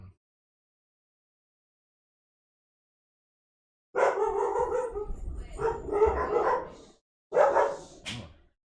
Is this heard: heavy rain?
no